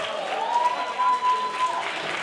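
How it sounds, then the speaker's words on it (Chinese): Audience applause at a business awards event after a four-hands piano duet, a steady dense patter of many hands clapping with a tonal hum running beneath. "掌声给我们的 Ben 和 Rose 他们的四手联弹"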